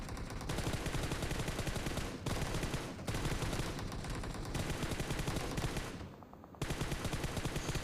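Rapid bursts of automatic gunfire from the shooter game PUBG Mobile, loud and continuous with brief gaps near two, three and six seconds, no talk over it.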